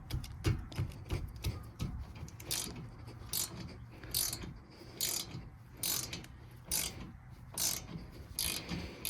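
Ratchet wrench clicking as it loosens rear brake bolts on a 2019 Ford Fusion Hybrid, quick bursts of metallic ratcheting repeated several times at close range, with no talking.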